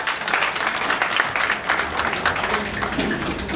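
Audience applause fills a public off-line event hall in Pietermaritzburg, South Africa: a dense, steady wash of many hands clapping that holds at an even level throughout, with no one talking.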